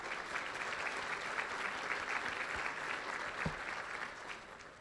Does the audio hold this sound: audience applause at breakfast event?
yes